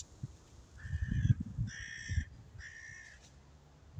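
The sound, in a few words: crows cawing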